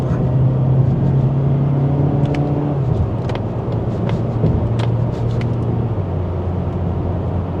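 Mazda 3 2.0 SP Fastback engine heard from inside the cabin while driving, a steady drone whose pitch drops in distinct steps as it downshifts, with road rumble and light clicks throughout.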